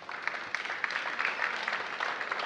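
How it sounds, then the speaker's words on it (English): Guests at a DC Emancipation Day breakfast applaud steadily, producing a dense, even wash of many hands clapping, heard from some distance and fairly soft, with no one speaking over it. "Let's give them a round of applause."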